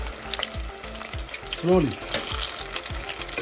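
Chicken pakora fries in hot oil, giving a steady close sizzle with stirring and bubbling throughout while a voice speaks briefly.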